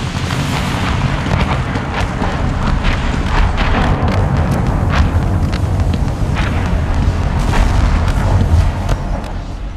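Explosions of destroyed containers in Batman: Arkham City, a loud, continuous run of rumbling booms and blasts with sharp cracks layered over heavy low-end roar.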